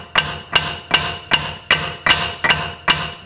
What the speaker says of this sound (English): Going to hammer in this end over here.